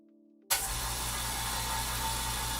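An air compressor kicks on abruptly after a moment of quiet, settling straight into a loud, steady motor drone with a low hum, building up air for airbrushing.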